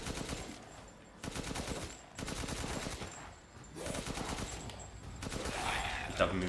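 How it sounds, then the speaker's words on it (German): Heavy machine gun fire in the Resident Evil Village video game, loud rapid bursts of automatic shots separated by short pauses, repeating across the span with a faint voice underneath. "Ein dickes MG. 300 Schuss, 30 im Magazin."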